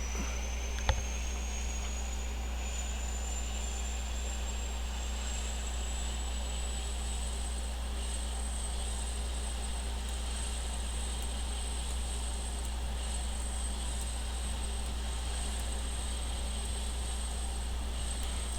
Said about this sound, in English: Sync our compasses, and let's see about getting a start here. She's starting up.